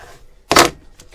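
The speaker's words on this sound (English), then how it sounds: "I'm going to cut off this top portion first." Scissors make a single short, crisp snip through sticker paper, close and alone, with faint rustling before it and a light tick after.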